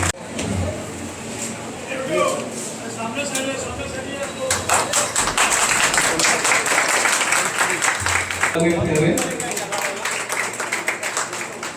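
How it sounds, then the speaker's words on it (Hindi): An audience at a community welfare forum event applauding a minister's arrival, steady crowd clapping that swells into a dense, loud ovation in the middle, with people talking over it. "तालियों की गूंज होनी चाहिए।"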